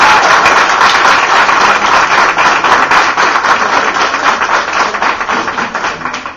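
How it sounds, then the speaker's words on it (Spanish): Loud, dense applause from a crowd at a graduation ceremony fills the clip, steady throughout and fading slightly at the end. "Vamos a darle un fuerte aplauso,"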